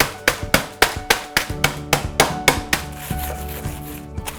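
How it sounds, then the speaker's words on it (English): Hobnob and digestive biscuits crushed in a bag, a rapid series of about fifteen sharp, close thumps and crunches in a steady rhythm that softens into rustling as the crumbs get finer. "So I'm going to get this in a bag and crush them to finely crushed."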